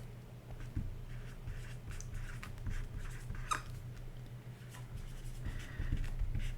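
Soft, faint scratching and tapping of a marker or pen writing on a board, in short irregular strokes over a low steady room hum, with no one talking.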